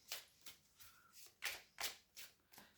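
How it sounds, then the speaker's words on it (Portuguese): Tarot cards from the minor arcana are shuffled by hand in a quiet room, a series of about seven soft, papery riffles at a steady, unhurried rhythm, close and fairly faint. "E agora vamos baralhar arcanos menores."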